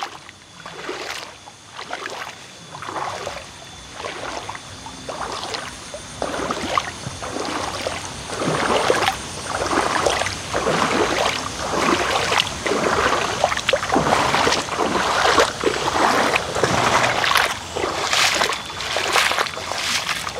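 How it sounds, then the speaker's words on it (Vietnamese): Early-season floodwater rushes loudly down a swollen stream in rural Vietnam, a continuous churning wash with splashing bursts that grows stronger partway through. "đây mới là lũ đầu mùa mà nó chảy to như này cơ mà"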